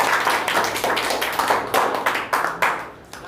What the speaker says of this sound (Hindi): रोशन सर के लिए एक ताली